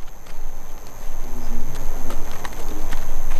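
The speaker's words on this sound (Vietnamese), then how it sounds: "Đây là loài ngựa Pevarsky." Przewalski's horses, wild horses of Mongolia, walk with soft, irregular hoof thuds over a steady outdoor wash of wind and faint ambient noise.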